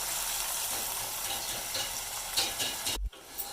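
Spice masala sizzling in hot oil with browned onions and ginger garlic paste for aloo matar, a steady broadband hiss close up, briefly cut off near the end before resuming.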